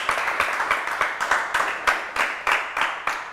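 An audience at the URUSARO Women Film Festival applauds a programme announcement with steady, rhythmic clapping that sounds fairly close, with no talk over it.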